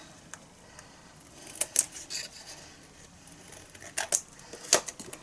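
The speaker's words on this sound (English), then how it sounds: "And then we can just cut off the extras." Scissors snip paper trimmings in a few quick, close, quiet cuts, in short clusters amid near silence.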